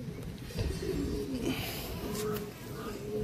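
Madrasi pigeons, long-distance racing birds, coo softly and repeatedly in a low, steady murmur, with a faint voice present in the background.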